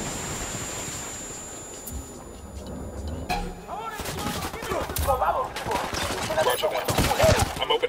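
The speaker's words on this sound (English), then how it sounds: "I'm opening fire." Gunfire in the shooter game Ghost Recon Wildlands: sharp shots and rapid bursts starting partway through, growing denser and louder toward the end, with voices mixed into the combat.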